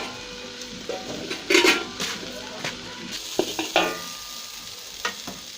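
Okra cooking in a spoonful of ghee in a pan gives a soft steady sizzle, with a spoon stirring and scraping in short bursts and a few light clinks against the pan, no voices.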